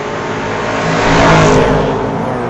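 1962 Chevy II drag car accelerating at a street-legal drag night at Mission Raceway Park: a loud, roaring engine building and swelling as it passes near, then easing slightly, with no voices.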